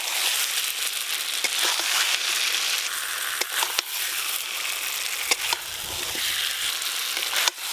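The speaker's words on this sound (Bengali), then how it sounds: "এবার ওপর দিয়ে ভেজে রাখা মাছগুলো দিয়ে মশলার সঙ্গে একটু ভালো করে মিশিয়ে নেব।" Fried fish pieces are stirred into a spiced masala in a hot pan, giving a steady, close sizzle and frying hiss with scraping stir strokes and occasional clinks throughout, with no voices.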